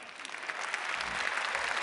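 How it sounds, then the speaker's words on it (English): Audience applause at an Ig Nobel Prize event, steady dense clapping from a room full of people, sustained and fairly loud throughout. "Applause for Dan."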